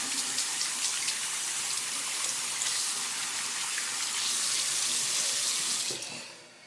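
Tap water runs steadily into a sink while hands are washed, a close, continuous splashing rush that holds for about six seconds and then stops abruptly.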